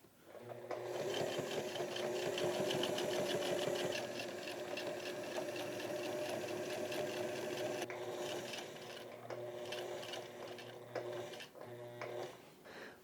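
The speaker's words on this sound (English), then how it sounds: "I sew it on the one side" A sewing machine runs steadily while stitching grey plaid pants, a close, even mechanical whirring with rapid needle clatter, pausing briefly then restarting in shorter bursts toward the end.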